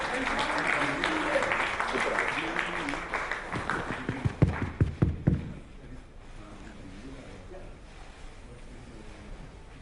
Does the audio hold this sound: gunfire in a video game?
no